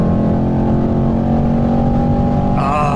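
Mercedes E63 AMG 4MATIC under hard acceleration, a loud continuous engine and exhaust drone heard from inside the car, its pitch shifting near the end as the throttle changes; the rear exhaust pops and crackles after a kickdown.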